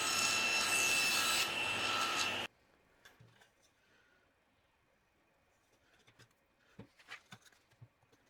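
Small dado being cut in wood for the front, back and sides of a brush tray, a dense steady sawing burst for about two seconds, then stopping abruptly, followed by faint scattered knocks and light handling sounds.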